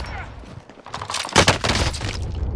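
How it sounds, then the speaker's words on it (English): A submachine gun fires in a video game in a loud, dense burst of rapid shots and booms, with a voice talking over it. "I'm working with a goddamn submachine gun,"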